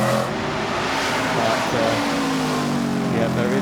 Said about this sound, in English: It's an American-style machine with that wonderful V8 sound